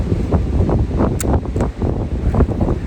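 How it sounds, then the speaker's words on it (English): Wind buffets a camera microphone outdoors beside a green field in Germany, a steady, loud roaring rumble with gusty swells and no talk. "Don't mind the wind"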